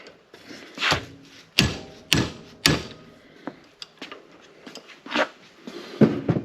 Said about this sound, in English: I'm hitting on this with a hammer